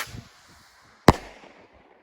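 A Cannon Fireworks Mortal rocket gives one sharp, loud report outdoors, which fades quickly into a quiet background with a few faint rustles.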